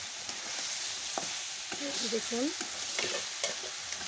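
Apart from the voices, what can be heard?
stirring beef frying in a pot over a wood fire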